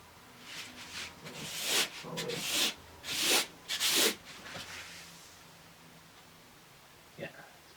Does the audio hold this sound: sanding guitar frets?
yes